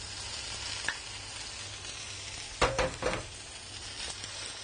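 Galangal and cauliflower frying in a hot pan, a constant soft sizzle with a couple of louder stirring scrapes near the middle, close and without talk.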